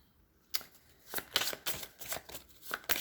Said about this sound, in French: Je vais prendre une carte de lumière.